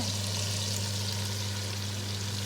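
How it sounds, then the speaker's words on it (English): Lamb browning in a pan with leeks, a steady close sizzle of frying with a constant low hum underneath, no voices. "So I'm just browning off the lamb"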